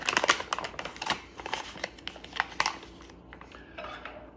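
A utensil stirs rehydrated Peak Refuel biscuits and gravy in its pouch, making soft repeated scraping, tapping and crinkling sounds up close, quiet and irregular.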